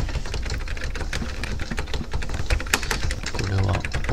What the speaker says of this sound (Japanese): これはお札を探してこのキーボードを打つの止めなきゃってことか。